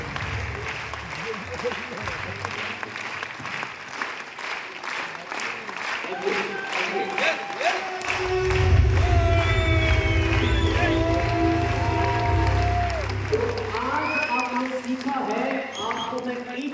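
A seminar audience at an RCM business event breaks into clapping, steady and spread across the room, swelling louder midway with cheering and music-like tones layered over it, voices audible throughout.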